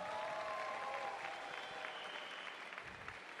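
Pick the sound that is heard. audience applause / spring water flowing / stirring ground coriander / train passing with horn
audience applause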